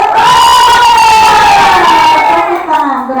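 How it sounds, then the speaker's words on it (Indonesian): An audience cheers and shouts loudly and continuously for about three seconds at an indoor teacher training session. "Tepuk tangan dulu untuk Bapak Ibu yang sudah jawab"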